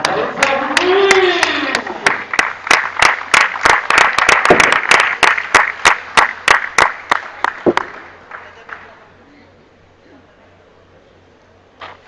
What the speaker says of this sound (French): Dylan Rocher pour la France, vous allez faire du bruit!